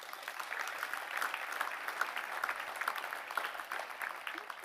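An audience at a mayor's New Year address applauds warmly, a sustained, even patter of many clapping hands that keeps going without a break and without speech.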